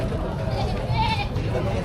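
Goats bleat at a busy livestock auction in Padre Garcia, Batangas, their calls rising over a constant crowd murmur and nearby talk.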